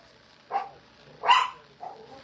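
Pit bull dogs barking nearby indoors, three separate barks spaced about half a second to a second apart, the middle one loudest.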